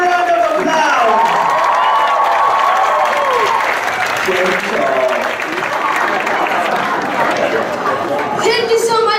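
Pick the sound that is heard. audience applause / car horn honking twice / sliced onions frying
audience applause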